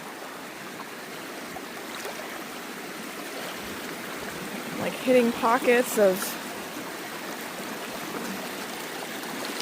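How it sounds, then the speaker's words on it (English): Flowing creek water, swollen and rising, rushes steadily throughout, with a person briefly talking over the current partway through. "Not quite a little creek anymore."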